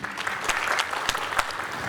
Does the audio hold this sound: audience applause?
yes